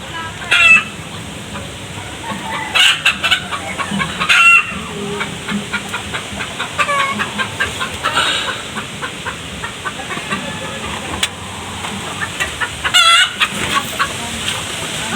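Laying hens cluck and cackle repeatedly close by, with occasional sharper squawks breaking through a steady background hum.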